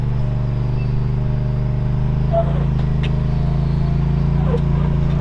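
Steady low engine rumble from a Jeep Compass on an off-road ATV trail, idling and pulling under light throttle as it goes into gear, with a few faint clanks over the continuous drone.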